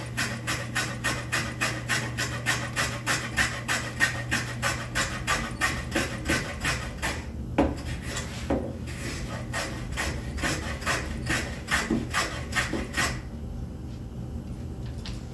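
Hand plane shaving wood for a spice rack: a long run of quick, regular rasping strokes, close and steady, that thin out toward the end, with a low hum under the early part and no talk.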